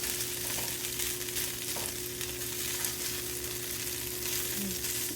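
Chips fry in a pan on low heat and are stirred, giving a steady, close hiss of sizzling oil over a low electrical hum.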